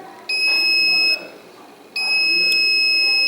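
Multimeter continuity beeper sounding while probing a coil on a mobile phone board: two sustained high-pitched electronic tones, each about a second long, separated by a short gap, over a faint low background murmur.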